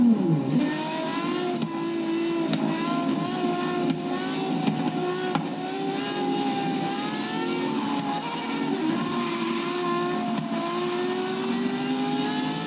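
A Ferrari 599XX racing in Forza Horizon 3 howls through rising and falling revs, a loud, continuous engine note with brief shifts, no voices over it.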